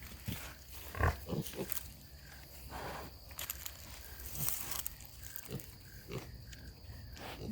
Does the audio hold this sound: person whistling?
no